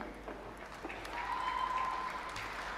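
A graduation ceremony audience claps for the graduates with soft, distant applause that swells slightly midway, with a faint steady tone running beneath it.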